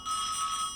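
A mobile phone rings with a steady, bright electronic tone that holds for under a second, loud and close, alone without talk.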